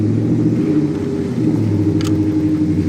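A 1969 Chevelle convertible engine idles close by, a low, even, loud rumble with a smooth pulsing beat and one brief higher tick partway through.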